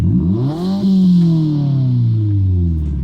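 A deep, throaty aftermarket exhaust on a Subaru WRX VB revs up and then slowly winds down, loud and close, with rich rumbling harmonics.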